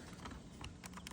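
A plastic trim tab on a forged carbon dashboard being rocked and clicked into place, giving a few small, sharp clicks over a faint noisy background, close and quiet.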